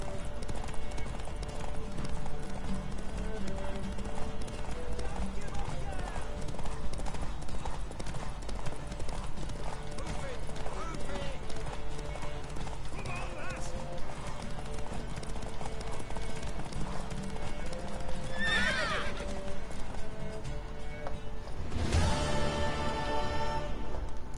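Horse hooves clip-clop steadily in The Witcher 3: Wild Hunt, a continuous rhythmic trot over game ambience and music, with a brief neigh or whinny near the end.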